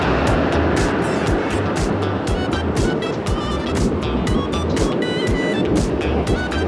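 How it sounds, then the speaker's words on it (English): Heavy motorway traffic roars past beside a bike path under a bridge in Lower Hutt, New Zealand, with a continuous loud rumble and a rapid series of vehicles whooshing by close at hand during a ride. "I'll just wait till we get past all this traffic so you can hear me."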